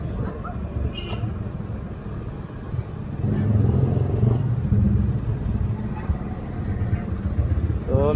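A Yamaha XMAX 300 scooter with a 300cc engine accelerates on the road, its steady engine drone swelling louder partway through under a rider's spoken narration.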